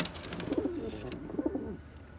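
Mardin pigeons coo in a balcony loft, two close, soft rolling coos in succession with a brief bird chirp at the start.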